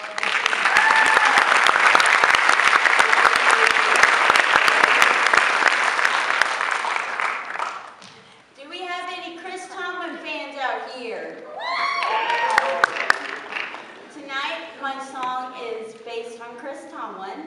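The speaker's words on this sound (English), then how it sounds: "Big round of applause for all of you." An audience claps loudly for the high school choir seniors for about eight seconds in a dense, sustained round of applause. The clapping fades out, and a voice then talks to the crowd.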